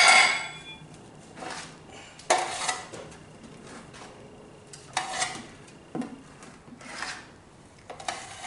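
Drywall joint compound scooped and scraped into a tray with a metal knife. Short, sharp metallic scrapes and clinks come in irregular bursts with quieter gaps between them, close by, and no one talks.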